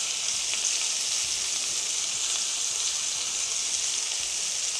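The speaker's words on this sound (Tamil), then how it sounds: "இது அப்படியே ரோஸ்ட் ஆகட்டும் கொஞ்சம் நாழி." Sambar powder sizzles as it roasts in a pan with plantain curry: a steady, bright frying hiss running throughout, close and even, with no talking.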